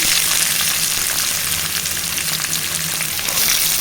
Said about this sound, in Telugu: ఇప్పుడు ఉల్లిగడ్డ వేసుకోవాలండి నేను రెండు ఉల్లిగడ్డలండి పెద్దవి సన్నగా కట్ చేసుకున్నాను